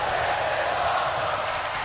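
Capacity crowd at a professional wrestling event, a steady loud roar of cheering and noise filling the arena throughout, with no pauses.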